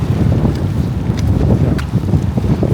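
Loud wind buffets the microphone in low, rumbling gusts, a constant blustery roar with no voices.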